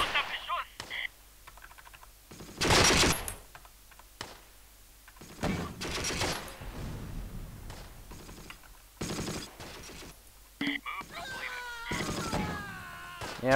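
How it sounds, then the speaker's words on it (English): Battle gunfire in the Close Combat strategy game comes as sharp bursts of shots and rattling volleys, loud and close, with other game effects sounding between them. "We're under heavy fire!"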